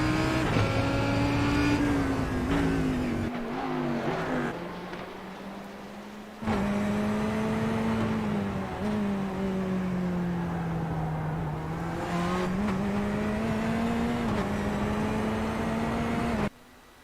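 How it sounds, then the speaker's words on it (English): Lamborghini Huracan GT3 V10 racing through a street circuit in a sim racing game, loud and close, revving up and down through gear changes with a brief lift midway before the engine roars back. "a beautiful sounding Lamborghini V10 in that car"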